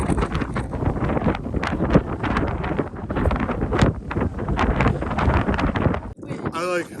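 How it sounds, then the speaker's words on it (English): Strong wind at the edge of a tall cliff in Iceland roars and buffets the microphone in a loud, constant rush that briefly cuts out near the end. "then the wind came. Massive wind."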